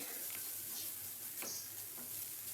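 Chopped onion goes into a frying pan with ginger and garlic, producing a soft, steady sizzle with a few faint ticks of a utensil. The sound stays low and even throughout.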